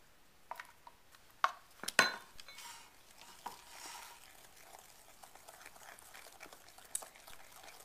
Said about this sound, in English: and 1/2 cup of honey. And you want to mix this very, very well.